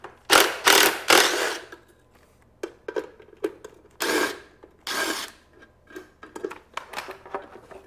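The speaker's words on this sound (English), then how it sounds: "Okay, let's pull off this air box." Close mechanical clatter and scraping as the plastic air box is worked loose from a Honda CB350 motorcycle, with bursts of rattling noise separated by quieter clicks and taps.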